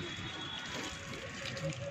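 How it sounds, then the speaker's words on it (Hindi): Water poured onto dry potted plants, a steady soft splashing and trickle, fairly quiet and continuous, with faint background sounds. "पानी डालना होगा पौधे सूख रहे हैं चलो पानी डाल देते हैं"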